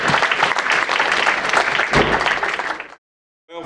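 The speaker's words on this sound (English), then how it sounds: "How about a nice round of applause for the 5 studs" A crowd at a stallion presentation applauds loudly with dense, steady clapping that cuts off abruptly near the end, followed by a short burst of sound.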